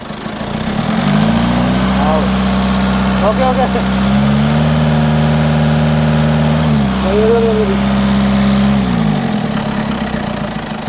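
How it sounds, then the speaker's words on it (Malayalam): A Tata Safari engine idles loudly up close, its pitch stepping up briefly a couple of times in gentle revs while a voice speaks over it. "എഞ്ചിൻ ഭാഗമൊക്കെ പക്കയെന്ന് തോന്നല്ലേ ഒന്ന് റേസ് ചെയ്യോ ചെറുതായിട്ട്"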